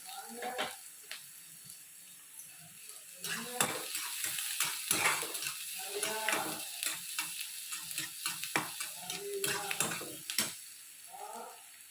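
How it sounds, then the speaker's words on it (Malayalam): Onion sautéing in a pan with green chilli and curry leaves added: crackling sizzle bursts and clinks of a utensil against the pan, fairly quiet, with intermittent pauses. "ഉള്ളി ഒരുവിധം വഴന്നു വരുന്ന സമയത്ത് നമുക്ക് പച്ചമുളകും കരിവേപ്പിലയും കൂടെ ചേർക്കാം"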